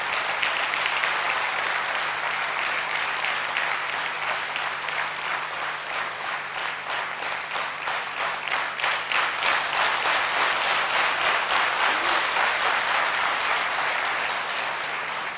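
An audience at Gyan Sarovar breaks into sustained, dense applause to welcome Dr. Girish Patel, a specialist in stress-related illness. The clapping holds steady and close for the whole stretch, with no voices over it.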